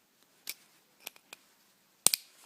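Scissors cut through the plastic stopper on a cluster headache injection pack: a few sharp, quiet snips spaced apart, then two louder close crisp cuts at the end, with no talking.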